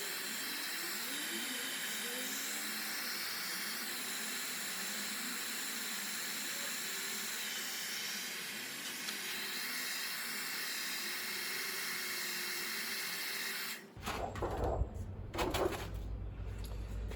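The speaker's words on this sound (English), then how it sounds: "you need to dry the plate first of all, so we can do that with a hairdryer" A hairdryer drying a lithographic printing plate blows with a steady, loud whooshing hiss for a long stretch, then cuts off abruptly, leaving quieter handling noises.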